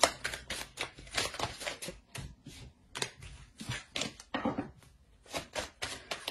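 Tarot cards being drawn, shuffled and laid down on a table in a series of crisp, irregular slaps and rustles, close and fairly quiet, with no talking.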